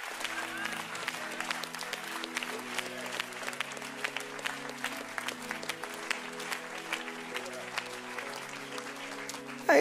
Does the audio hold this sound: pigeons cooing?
no